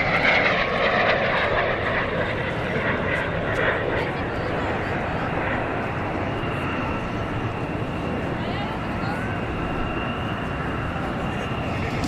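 A Patriots Jet Team jet makes a low sneak pass at a Southern California airshow, its loud engine roar sweeping past and then fading into a sustained rumble, with an announcer speaking over it.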